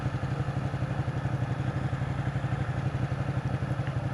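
A Ducati 899 Panigale sits idling in city traffic, its twin-cylinder engine giving a steady, loud lumpy pulse close by with a faint mechanical clatter and no speech.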